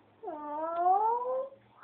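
A single drawn-out cat meow, rising then falling in pitch, clear and fairly close against a quiet background.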